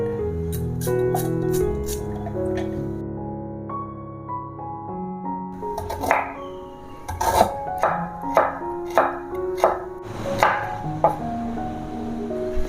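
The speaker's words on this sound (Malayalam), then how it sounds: "ഇത് നമുക്ക് ചെറിയ പീസുകളായിട്ട് കട്ട് ചെയ്യാം" Knife chopping shallots, green chili, ginger and garlic on a board for a Kerala-style beef roast, heard as a run of sharp, evenly spaced taps in the second half, after a stretch of background music.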